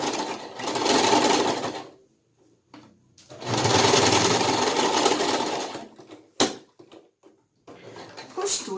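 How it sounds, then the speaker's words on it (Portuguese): Home sewing machine stitching the final seam of a small fabric toy dog, running in two long steady bursts with short pauses and a brief clunk between, close and clear. "a gente vem aqui e passa a nossa costura definitiva"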